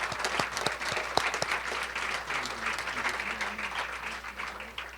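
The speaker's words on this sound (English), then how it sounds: "so please give yourselves a round of applause for that." A crowd at a teachers' union contract announcement applauds steadily, with sustained clapping that has a few sharper claps near the start and carries on without fading, a room full of hands with no talk over it.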